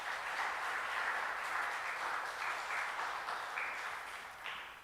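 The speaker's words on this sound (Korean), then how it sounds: "우리 한번 환영의 박수 한번부터 합니다" Church congregation claps in welcome for visitors during a Korean service, a soft, even wash of many hands that continues steadily and fades slightly at the end.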